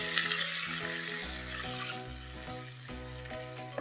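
Tomato poured into a hot tempering of curry leaves for tomato pepper rasam, giving a steady broadband sizzle and frying hiss, fairly loud and close, with faint clinks of a pan and utensil and no talking.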